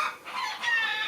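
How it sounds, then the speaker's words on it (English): Backyard chooks clucking and squawking excitedly in the background of a garden, a steady busy flock chatter rising and falling without pause. "You can hear the chooks in the background going nuts"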